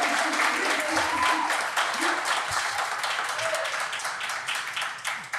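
A live audience at a comedy festival show bursts into sustained applause and cheering, dense clapping filling the room and slowly tapering off near the end, with a few scattered voices mixed in.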